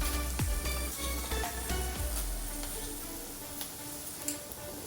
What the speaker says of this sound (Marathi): हे थोडे भाजून घेऊया मागीर सासम घालया.